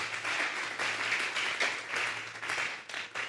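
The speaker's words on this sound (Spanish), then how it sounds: "Denle un fuerte aplauso pues al Señor." Congregation applauding at a church sermon, a steady wash of clapping from a large crowd filling the whole stretch at moderate distance, with a faint low hum beneath.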